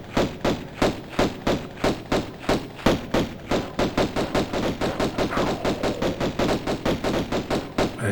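Rapid, steady pistol fire from Lara Croft in Tomb Raider, dozens of sharp evenly spaced shots rattling off about three per second, loud and continuous without pause.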